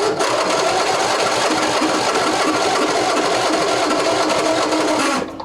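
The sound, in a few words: Briggs & Stratton V-twin engine starting with throttle and choke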